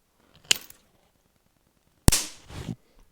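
A spot welder turned up to full power zaps 0.15 mm nickel strip, giving two sharp cracking bursts a second and a half apart, the second followed by a short sizzling tail.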